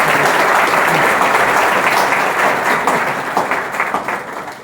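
Audience applause for students selected as Mumbai Police recruits, a dense sustained clapping from a crowd that fades slightly toward the end, with no talk over it.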